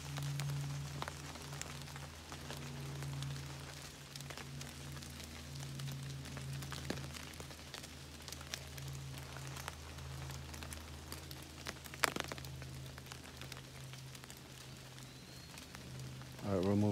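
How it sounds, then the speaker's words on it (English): Steady rain patters in damp woodland at Roraback Wildlife Management Area, a soft continuous hiss with scattered drops and a faint low hum running throughout. "It's raining."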